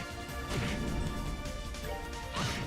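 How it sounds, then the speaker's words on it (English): A small explosion in the video game Trails in the Sky 3rd: loud crashing bursts, one near the start and another near the end, over ongoing game music. "That's a tiny, tiny explosion."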